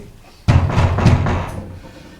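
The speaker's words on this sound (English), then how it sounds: "Knock, knock, knock." Knocking on a door in a school staging of a Macbeth scene, a series of about four heavy, dull thumps in quick succession, loud and close, then fading.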